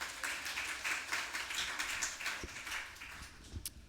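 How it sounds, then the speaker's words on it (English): Scattered clapping from a modest audience at a book event welcoming an author, soft and fairly distant, with uneven individual claps rather than a dense roar. "let's have a round of applause"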